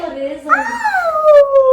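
A voice imitates a wolf howl, a rising then long drawn-out wavering tone, close and fairly loud.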